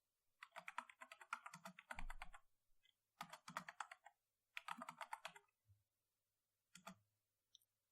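Bursts of computer keyboard typing while entering SQL table columns, close and clear, in three long runs of rapid key clicks followed by a few isolated keystrokes, with no talking.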